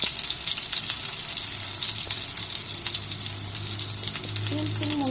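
Garlic and onion sautéing in a pan for mung bean stew, a steady bright sizzle throughout, fairly close, with a brief voice near the end.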